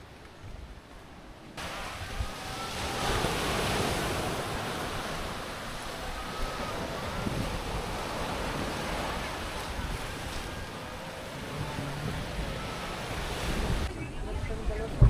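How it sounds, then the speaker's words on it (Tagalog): Sea waves breaking on Butas-butas Beach in Mauban, a continuous washing roar of surf mixed with gusty wind buffeting the microphone, steady and fairly close throughout. "I-check na rin namin ang dagat."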